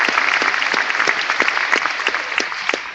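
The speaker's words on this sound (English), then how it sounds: "You can applaud, it's okay." A crowd at a faith and politics gathering claps steadily, many hands producing a dense, continuous patter with sharper individual claps standing out, loud and sustained across the whole stretch without speech.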